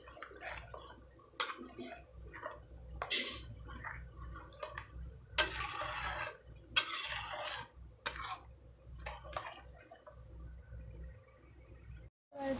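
Paneer masala being stirred in a pan after turmeric goes in: intermittent metal scrapes, clinks and taps of a spoon against cookware over a quiet background, some bursts louder, no voices.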